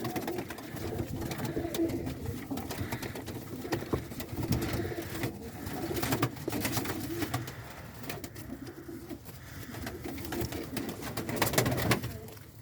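Pigeons coo softly and repeatedly amid rustling and faint background clatter, close by, with no clear talking.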